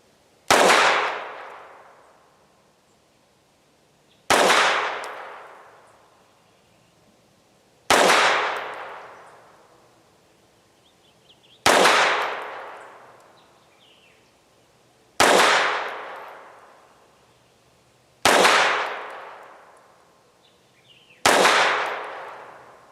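Seven sharp pistol shots from a FEG AP-MBP 7.65mm handgun with black grip, fired at an indoor-sounding range, evenly spaced about every three and a half seconds, each loud crack followed by a ringing decay.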